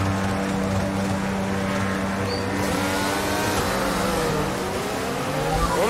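F1 22 video game race cars idling and rolling on a formation lap, a steady layered engine drone with shifting harmonic tones and slight revving throughout, loud and continuous.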